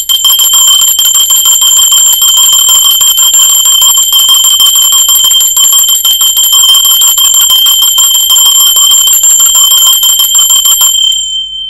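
A hand bell rings loudly and without pause for about eleven seconds, a bright, shimmering metallic jangle that stops abruptly at the end.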